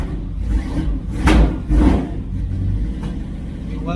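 1966 Dodge Charger V8 with a Holley 4150 carburetor revving roughly with a misfire, uneven engine note broken by sharp bangs and pops, close and fairly loud.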